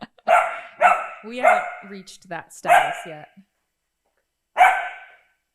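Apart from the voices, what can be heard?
dachshund dog barking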